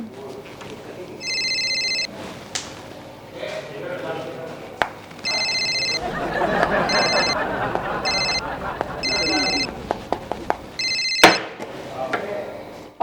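A telephone rings repeatedly in short electronic bursts during a call being placed, with people talking loudly between and over the rings.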